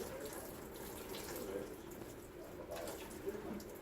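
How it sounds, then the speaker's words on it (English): Water rinses a surface freshly treated with Surebond stripper, a steady moderate splashing flow with soft spattering, no talk heard. "I'm gonna take and rinse that surface with water."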